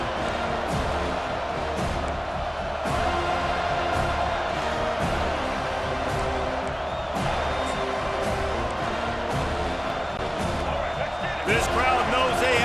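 Stadium crowd in the College Football 25 video game, a steady dense roar of cheering and shouting that holds throughout, swelling slightly near the end, with no distinct voices standing out.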